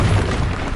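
Booming spell explosion effect from a Harry Potter video game, a loud, dense burst of low rumble sustained across the whole short moment with no talking.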